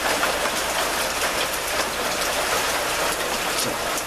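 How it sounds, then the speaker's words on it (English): Heavy rain pours down hard enough that the gutters overflow, making a dense, steady hiss of water splashing onto surfaces with no voices. "It just starts pouring so hard the gutters can't even keep up with it."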